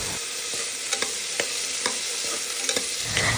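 Shallots and curry leaves frying in hot oil in a pan are stirred with a spoon, giving a steady sizzle broken by several sharp scraping strokes at irregular intervals, close and fairly quiet, with no voices.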